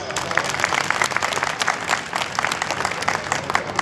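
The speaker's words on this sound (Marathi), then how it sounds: "शिवदास अप्पा मानेलूच्या नावाने पुन्हा एकदा टाळ्या वाजवा" Applause from an audience gathered at a Mahadev temple event, a steady wash of many hands clapping at moderate distance, with a few voices faintly mixed in.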